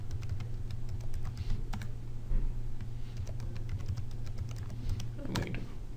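Password keys tapped on a computer keyboard during a ThingWorx PostgreSQL setup on Windows, a quick irregular run of light clicks over a steady low hum, close and fairly quiet.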